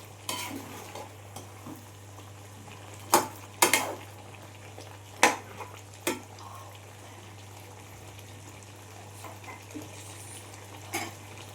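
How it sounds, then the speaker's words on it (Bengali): Mutton korma stirred in a pot with the lid off, a low steady simmer under scattered sharp scrapes and clinks of a spoon against metal, no talking. "ঢাকনাটা খুলে আমি একবার ভালো করে মটনটা নাড়াচাড়া করে নেব।"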